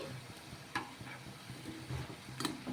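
Murukulu made from leftover rotis fry in hot oil with a soft, crackling sizzle, punctuated by a few stirring clinks and scrapes in a quiet setting.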